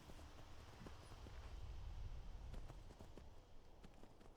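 Horse hooves galloping in the Skyrim video game, quiet rhythmic hoofbeats thudding steadily over a low rumbling game ambience, with no talk.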